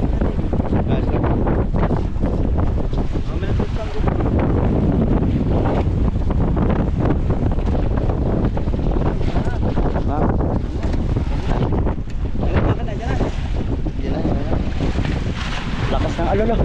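Strong sea waves and gusting wind batter a boat out on rough water, a loud, continuous roar of rushing air and surging water that buffets the microphone.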